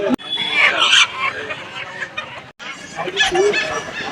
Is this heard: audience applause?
no